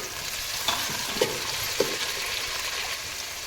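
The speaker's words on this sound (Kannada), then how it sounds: "ಈಗ ಇದನ್ನು ಒಂದು ಸ್ವಲ್ಪ ಹೊತ್ತು ಫ್ರೈ ಮಾಡ್ಕೊಳತ್ತೀನಿ" Tomato and onion frying in a pan for palak rice, with a steady close sizzle throughout and a few soft clinks of a spoon stirring against the pan.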